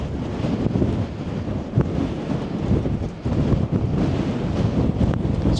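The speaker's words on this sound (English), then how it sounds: "It's very windy up here." Strong wind on top of Mount Wellington, Tasmania, buffets the microphone in heavy, rumbling gusts, a continuous roar with no voices.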